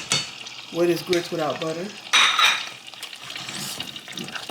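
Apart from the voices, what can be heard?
stirring grits with butter in a pot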